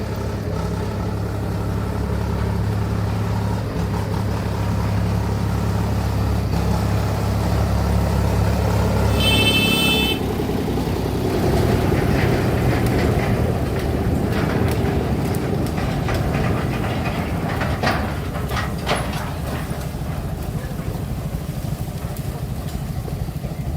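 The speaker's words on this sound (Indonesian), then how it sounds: "Lokomotif kecil yang bertugas adalah lokomotif kecil nomor 5" Small shunting locomotive number 5, a Skoma, running with a steady low diesel drone, brief squeal of metal near the middle, then rumbling and clanking of wheels on rail, loud and close throughout.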